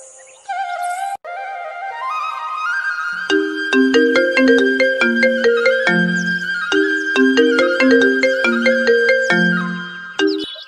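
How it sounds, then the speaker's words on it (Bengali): A mobile phone plays a bright melodic ringtone while a call is being placed, opening with a few short tones before a loud, repeating chiming tune carries on alone to the end. "ফোনটা করে দেখি।"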